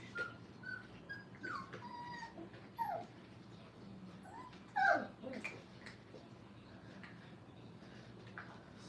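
Five-week-old puppies in a training kennel give scattered high whimpers and yips, several short cries rising and falling, one louder burst midway, with quiet gaps between.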